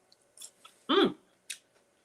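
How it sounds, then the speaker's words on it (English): Crunchy sweet potato fries are bitten and chewed close up: a few light crackles, then one loud crunchy bite, then another sharp crunch, with quiet gaps between them and no talking. "These sweet potato fries are... Y'all hear how crunchy they are?"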